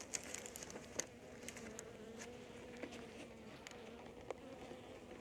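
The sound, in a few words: honey bees buzzing inside hive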